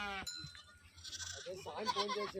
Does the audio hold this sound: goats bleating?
yes